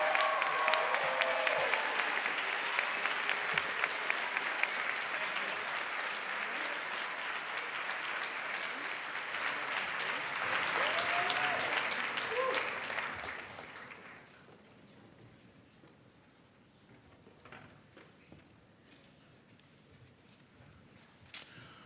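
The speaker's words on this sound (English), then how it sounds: "if we can just round it off by a big round of applause for everybody" Audience applause at a medical school white coat ceremony: dense clapping holds strong for about thirteen seconds, then fades into scattered claps, murmurs and room noise.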